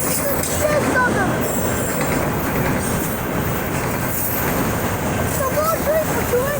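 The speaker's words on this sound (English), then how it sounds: "It's a long train for 2 engines." A long freight train pulled by two locomotives rolls past at a rail crossing, a steady broad rumble of wagons with faint wheel squeals, while people talk over it.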